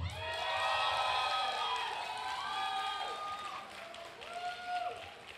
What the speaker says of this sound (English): The louder the applause, that will decide who the winner is